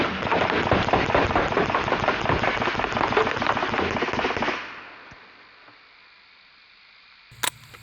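A BB gun fires on full auto in one continuous rattling burst of about four and a half seconds. It cuts off into a faint mechanical hiss and near silence, then a single sharp click closes the clip.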